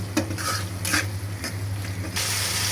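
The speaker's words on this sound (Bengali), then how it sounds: "মশলাটা আমি আঁচ কমিয়ে ভালোভাবে নেড়ে চেড়ে কষিয়ে নেব" Masala frying over low heat in a pan, a constant sizzle with several bursts of scraping and clattering as a utensil stirs it against the metal, no voices.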